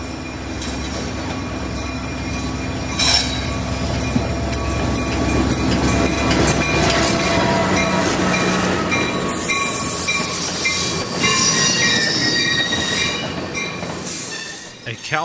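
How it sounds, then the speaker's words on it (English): An ACE commuter train slows to a stop at a station, its wheels squealing in long high metallic screeches over a steady rumble of rolling railcars, loud and close, with brief clatter near the end. "Caltrain begins its run to San Francisco as Ace squeals to a stop."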